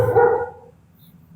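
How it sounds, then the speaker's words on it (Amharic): A single short dog bark in the background, faint and brief, followed by quiet and the start of another bark at the end. "ውሻ ከኋላ እየጮኸ ነው።"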